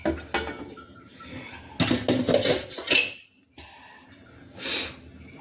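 Metal kitchenware clatters and clanks in a few sharp bursts as a lid is set onto a pot of cooking mustard greens, with quiet pauses between the knocks.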